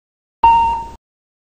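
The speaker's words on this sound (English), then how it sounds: "like the single chime" Single chime aural alert tone in an Embraer E190/195 cockpit: one clear electronic chime, steady and sustained for about half a second before cutting off, heard alone against silence.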